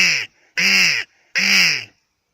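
ACME crow call blown by a person to imitate a crow, three loud, harsh, nasal caws close up, each about half a second long, separated by brief silences.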